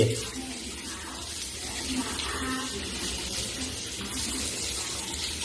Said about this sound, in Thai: ล้างเยอะๆล้างนานๆ หน่อยถกแขนเสื้อดี ๆ เออ ล้างนานๆหน่อยให้ฟองเนี่ย